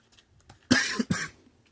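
Two harsh, close coughs in quick succession, loud and alone, with a brief throaty catch between them.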